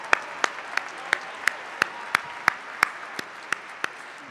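Commencement ceremony audience clapping in a slow, even rhythm, roughly three claps per second, each clap sharp and distinct over a soft background of scattered hand claps.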